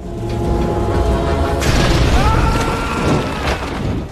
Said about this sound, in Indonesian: Suatu hari terjadi kebocoran gas di penambangan batu bara tempat Dukso bekerja, dan tempat itu pun meledak.